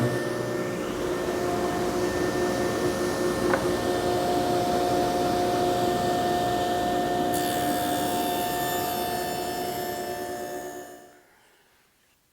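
A dado stack raised nearly to full height hums steadily while cutting grooves in plywood, a loud sustained whine that runs for about eleven seconds before spinning down and falling quiet.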